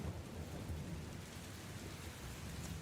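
Storm on a rocky promontory, steady dense rain hiss with deep rolling thunder rumbling underneath, continuous and fairly distant, without any voices.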